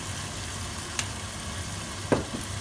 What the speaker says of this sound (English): we're going to add our red wine. So you want probably about 200 ml of red wine